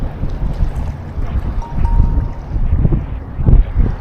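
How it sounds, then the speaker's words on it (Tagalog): Strong wind gusting over a small fishing boat at sea at night, a loud uneven low-frequency rumble that swells and dips, with a faint brief tone partway through and no talking. "Ang lakas ng hangin."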